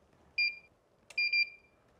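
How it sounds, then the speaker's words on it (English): A CELLTRON Advantage Digital battery tester, clamped to battery terminals, gives a short electronic beep, then a click and a double beep, clean and close in a quiet room. "The Advantage Digital beeps when the test starts"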